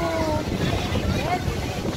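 Strong wind buffets the microphone outdoors on a busy street in Manila, a steady broadband roar throughout with faint crowd voices mixed underneath.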